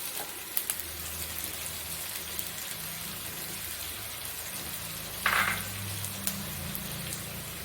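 Grated coconut fries in a little coconut oil in a pan with a steady, low crackling sizzle, and a brief louder scrape sounds partway through.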